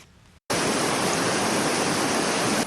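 A rushing mountain stream pours loudly and continuously, a dense roar of water that bursts in abruptly after a brief quiet moment.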